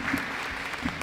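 A short burst of audience applause at a depression awareness event, dense clapping heard briefly and fairly close.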